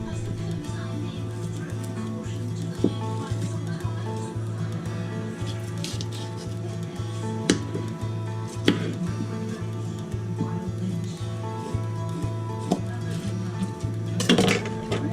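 Knife chopping food on a cutting board in a home kitchen while making beef stew and potato salad, a steady run of sharp regular chops over a constant low hum, with a few clinks of dishes and one louder clatter near the end.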